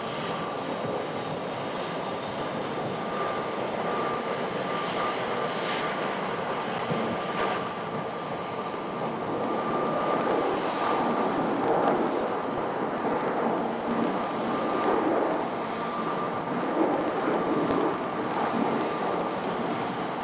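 A Southwest airliner departing Phoenix Sky Harbor airport produces a steady, broad jet engine roar heard from a distance, swelling slightly over about twenty seconds with no voices present.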